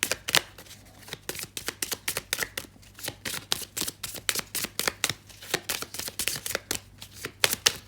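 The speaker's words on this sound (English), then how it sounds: "Let's see if we can shuffle and get 3 or 4 country cards for you." Tarot cards are shuffled over and over in quick, crisp bursts, a steady rhythm of riffles and taps close up with no talking.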